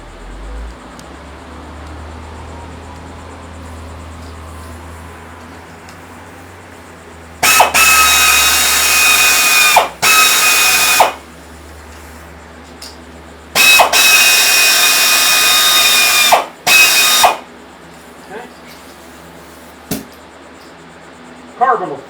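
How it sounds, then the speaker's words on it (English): Cylinders of a classic engine being honed with a power drill and cylinder hone, heard as two loud, high-pitched whirring runs of about three seconds each, each followed by a short burst, with quiet workshop pauses between them. "I think I'm going to hone those 2 cylinders out just so the piston will come out a little easier"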